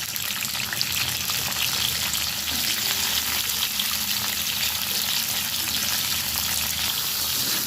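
Spinach stems and vegetables hit a hot pan with five-spice seeds, making a loud, continuous, unbroken frying hiss that fills the whole stretch without pauses or talk.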